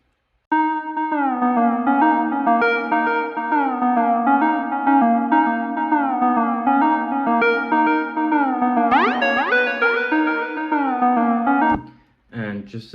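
Synth melody for a funk track programmed in music software, with sliding notes and pitch bends, loud and continuous for about eleven seconds before cutting off near the end.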